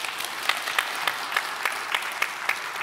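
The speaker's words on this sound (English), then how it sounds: "Round of applause." A crowd applauds panelists at a drone technology conference, giving thick, continuous clapping with sharper individual claps popping out in a fairly regular rhythm.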